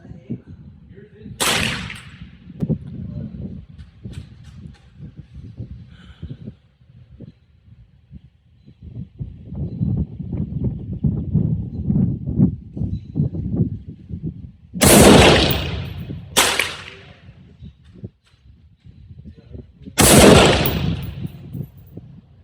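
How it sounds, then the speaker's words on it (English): Several sharp rifle shots from an M16A1 parts-kit AR-15 fired at a 100-yard target outdoors, each a loud close crack with a short tail, spaced seconds apart; someone talks quietly between shots. "I got 5 shots left"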